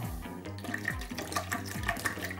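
Cold water poured from a bottle into a container, a continuous close splashing pour with a gurgling, bubbly texture throughout.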